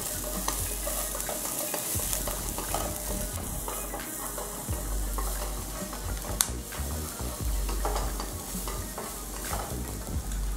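Brown onion fries in a wok for a shrimp vegetable lo mein, a continuous close crackling sizzle with scattered clicks and scrapes from stirring throughout, no talking.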